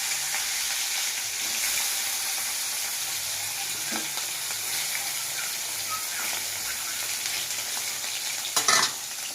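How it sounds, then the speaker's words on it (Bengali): Rohu fish pieces frying in hot oil in a kadai, a dense, steady sizzle with a bubbling hiss that runs throughout, close and fairly loud, with a brief clatter near the end and no talking. "এবার তেল গরম হলেই মাছ আমি ভেজে নেব"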